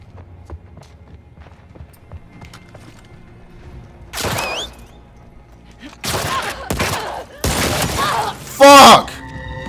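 Scattered gunfire and sniper shots in The Last of Us Part 2, sharp isolated cracks and short bursts breaking through quiet ambience, with a loud final shot near the end.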